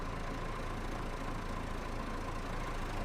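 A tractor engine idles steadily in Farming Simulator 22 as it backs up on a smallholding, a continuous low rumble holding even and close throughout with no talk over it.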